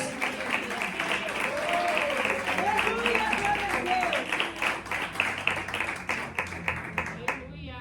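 Church congregation clapping for Jesus during a sermon on 2 Samuel, loud rhythmic hand claps under a sung or spoken voice, thinning to scattered claps at the end.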